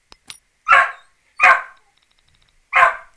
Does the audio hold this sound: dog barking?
yes